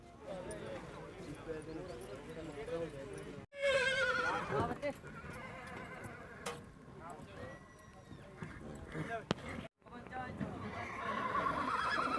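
A horse whinnies among other animal calls and background chatter, with people talking nearby throughout, at a horse, livestock and bird fair in Talwandi Sabo, Punjab.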